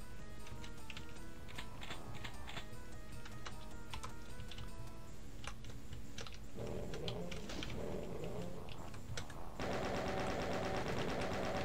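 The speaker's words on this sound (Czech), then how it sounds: "To je plasma gun." In Final Doom, a plasma gun fires a rapid, even stream of sharp bursts, steady and fairly close. The tone changes toward the end as other game sounds come in.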